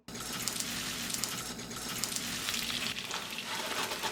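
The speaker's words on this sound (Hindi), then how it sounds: "अब इसके ऊपर लिड नहीं लगाएंगे और मीडियम फ्लेम पर इसे फ्राई करेंगे।" Chicken koftas frying in hot oil in a wok over medium flame, a continuous faint crackling sizzle with scattered pops, alone without voices.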